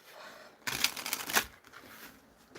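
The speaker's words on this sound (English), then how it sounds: "We have one more shuffle." A deck of tarot cards riffle-shuffled nearby, one dense flurry of papery flicking lasting under a second, alone amid quiet room tone.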